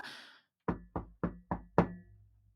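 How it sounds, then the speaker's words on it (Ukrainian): Five firm knocks on a wooden door in an even, steady rhythm, close and clear against a quiet room after a brief rustle. "хтось застукав у двері"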